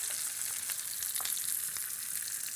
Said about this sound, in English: I'm going to turn this first piece of fish.